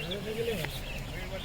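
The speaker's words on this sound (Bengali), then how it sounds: "কি সুন্দর, শুধু পাখি ডাকছে চারিদিকে।" Birds call in the Gorumara jungle on an afternoon, soft chirps and coos scattered through the short stretch while a person talks over them.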